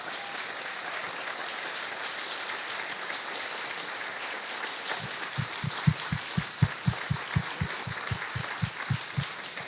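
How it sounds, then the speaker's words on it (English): Rally crowd applauding volunteers, a broad, steady wash of clapping throughout, with a run of regular low thumps joining in the second half. "if you'll all join me in giving them a round of applause"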